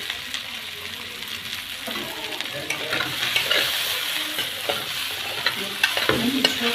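Taro sautéed in a pan with a utensil, steady sizzling frying under repeated scraping and stirring strokes, close and continuous throughout.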